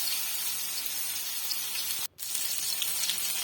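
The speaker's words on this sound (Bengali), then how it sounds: "নিয়ে আবারও তেলের মধ্যে দিয়ে এই একই প্রসেসে আমি এই সমস্ত কুমড়োটা ভেজে নেব" Rice-flour-stuffed ash gourd pieces fry in hot oil with a steady, close hiss and crackle, broken by one brief dip midway.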